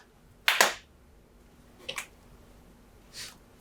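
A single sharp hand clap rings out loud and close, followed by two fainter, softer slaps spaced about a second apart, with no voices.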